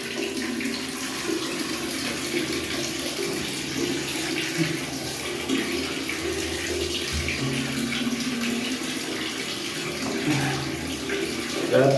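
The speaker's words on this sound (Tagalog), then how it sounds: "punta tayo maligo" Shower water running steadily while someone bathes, a continuous close rush and splash that stays even throughout, with faint voices in the background.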